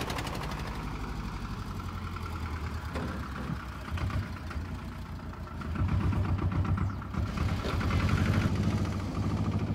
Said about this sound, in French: La pièce principale étant son moteur de pompe inusable, dont le Tuf-Tuf lui a valu son nom.